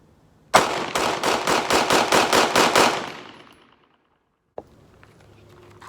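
A Glock 17C compensated pistol fires ten rapid, evenly spaced shots at a target from 7 yards, loud and sharp, followed by a fading ring and one more faint click or impact near the end.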